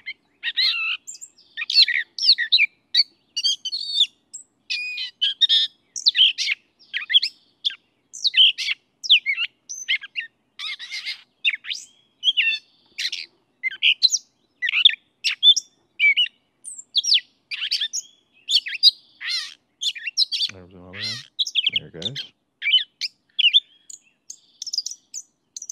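Continuous rambling gray catbird song of mixed squeaky notes, chatters and whistled phrases goes on at length, close and clear, with a couple of low, harsher calls near the end.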